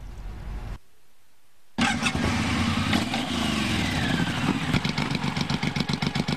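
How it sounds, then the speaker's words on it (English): Motorcycle engines, including 2007 Suzuki bikes, start up after a short silence and then rumble loudly and steadily, with rhythmic pulsing revs toward the end. "are revving their engines, getting ready to hit the road"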